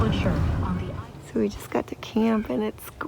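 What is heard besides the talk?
No distinct noise like a dog, phone or traffic.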